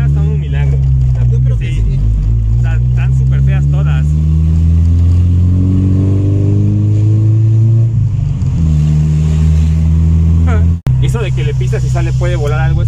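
A car accelerates hard from zero to 100, its engine revving up through rising pitch with gear changes, loud and close from inside the cabin, with people talking over it.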